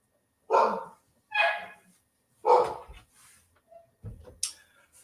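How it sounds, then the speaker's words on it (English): A female dog barks excitedly at a salesman: loud, close barks in short bursts with brief pauses, followed by softer huffs and a sharp yip. "The dogs have now seen the salesman and she's going crazy."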